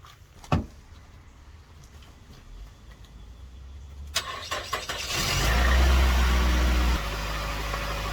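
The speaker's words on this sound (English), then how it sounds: "you see the car is trying to turn on" A car engine cranks after a few clicks and ticks, then catches into a steady, loud running rumble that settles lower toward the end.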